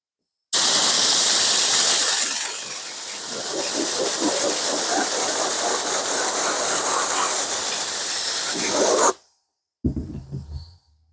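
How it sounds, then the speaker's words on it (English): Spray can of contact adhesive hissing onto foam pieces for a motorcycle seat, one loud continuous close spray lasting about eight and a half seconds, cutting off sharply and followed by brief handling noise. "Put it together with my contact adhesive here. As you noticed, as soon as I sprayed it, I put it together."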